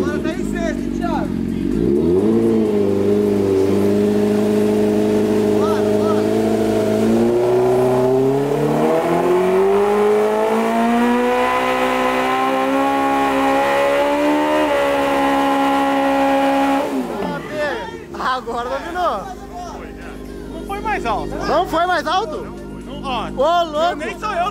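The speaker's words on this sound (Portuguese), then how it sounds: "Vou tentar bater esse recorde, vou acelerar até o máximo" Honda Hornet motorcycle revving hard toward full throttle in sixth gear, a loud, rising engine whine that climbs steadily for about fifteen seconds before cutting off, followed by excited voices talking close by.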